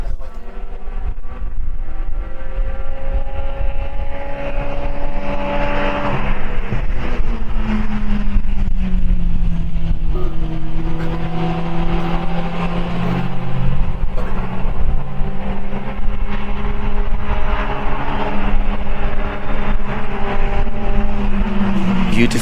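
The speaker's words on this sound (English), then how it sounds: "It's actually one of the international Formula Master cars." International Formula Master single-seater race cars battle on the Brno circuit, their engines whining and shifting pitch continuously as they pass, loud and close for over twenty seconds.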